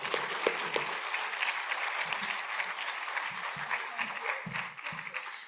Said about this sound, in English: And let's get a round of applause for the panel.